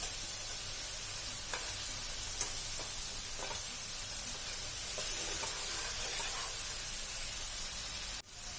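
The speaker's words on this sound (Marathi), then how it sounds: "मसाला चांगला परतून झाला" Masala with chopped tomato sautéing in oil in a pan gives a steady, close sizzling hiss with occasional soft stirring scrapes, then a sharp clank near the end.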